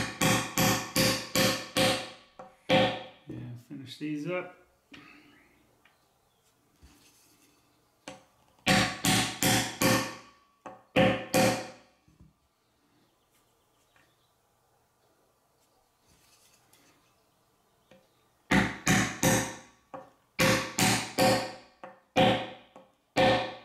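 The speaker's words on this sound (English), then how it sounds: "just hammering in some string ferrules." Metal string ferrules tapped into a guitar body with a hammer in sharp, rapid bursts of strikes separated by quiet pauses, close and loud, with a brief spoken remark.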